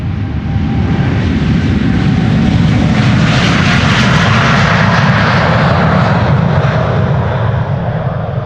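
Airliner departing Amsterdam Schiphol Airport, its engines roaring loudly and steadily throughout, swelling slightly mid-clip as it passes close.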